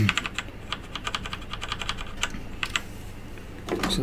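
Keys pressed on a GGK 3 5 mechanical gaming keyboard, a run of quick clicky keystrokes in an irregular rhythm, close and fairly loud, with a denser burst at the end.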